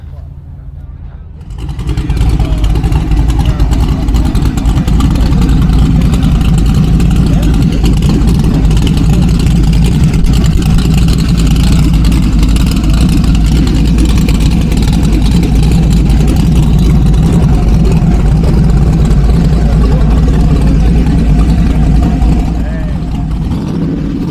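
A first-generation car with flip-up headlights runs its engine at a Las Vegas car show, a loud, steady, low rumble that holds without a break for more than twenty seconds.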